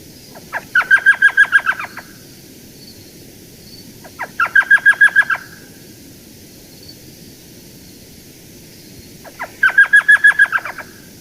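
Three bursts of rapid, high yelping chatter from a female elf owl, each a quick series of squeaky notes, separated by pauses over a faint hiss.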